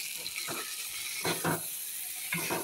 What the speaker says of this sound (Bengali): এবার আলু আর পটলটা ভাজা ভাজা হয়ে গেছে, কষানো হয়ে গেছে।